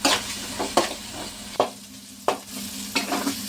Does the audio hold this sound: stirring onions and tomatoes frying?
yes